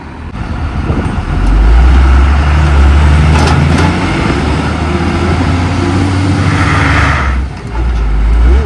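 Engine of a big soil-delivery truck stuck with its wheels sunk in the ground at a house site, a loud close diesel roar that revs up, holds strained and heavy, then dips and surges again.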